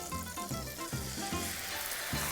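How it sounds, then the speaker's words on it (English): Tomatoes sizzling in a pan for spaghetti puttanesca sauce, heard as a steady frying hiss with repeated rhythmic scraping or clanking strokes of a utensil against the pan, close and fairly quiet, no talking. "So now I'm gonna throw my tomatoes into the pan."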